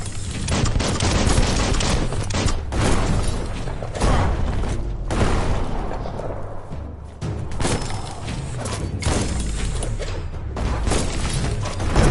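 A bomb lobber weapon in Biomutant fires and explodes again and again, heavy booms and blasts overlapping in a dense, loud barrage with mechanical clanks between them and no talk.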